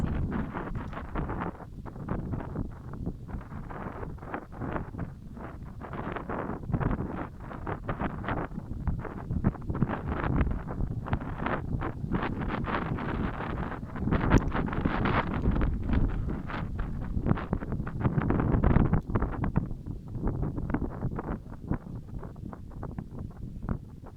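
Strong gusty wind roars and buffets the microphone in uneven surges, loud and close throughout.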